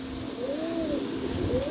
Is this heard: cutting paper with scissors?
no